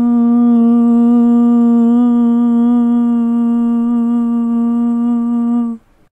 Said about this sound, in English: So this is just a vocal sample of me that I recorded, and it sounds like this without any processing on it.